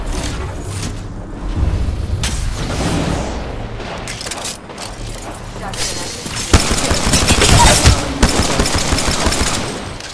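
Rapid automatic gunfire from the Apex Legends video game, dense overlapping bursts and booms that build in intensity toward the end, with game voice lines over the shooting.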